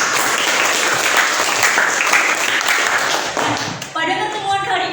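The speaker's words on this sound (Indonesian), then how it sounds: "Kita beri tepuk tangan" Students applauding in a classroom, a loud burst of many hands clapping close by that thins out near the end, when a voice begins speaking.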